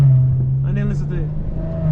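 Maserati Ghibli S engine revving during a hard drive, a steady low drone throughout with talk over it in the middle.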